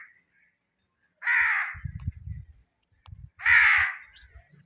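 Crows cawing near a village gate on a clear, sunny day after a storm: two loud, harsh, drawn-out caws, with low rumbling noise in between.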